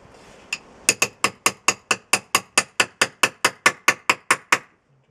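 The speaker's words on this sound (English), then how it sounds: "just need a drift so that we can hit this with a hammer and not make a massive mess." Hammer striking a steel drift punch while building a model wagon chassis: a single tap, a short pause, then about seventeen evenly spaced, ringing metallic blows in a fast steady rhythm, close and loud with no talk.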